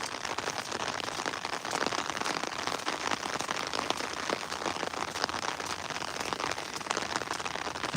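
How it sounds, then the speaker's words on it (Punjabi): Steady heavy rain pours down in bursts over fields of sugarcane, a dense unbroken hiss of drops on surfaces that stays loud and even throughout, with no voices. "ਮੀਂਹ ਭਾਈ ਝੱਟਾਂ ਲੈ ਲੈ ਕੇ ਆਉਂਦਾ ਮੀਂਹ"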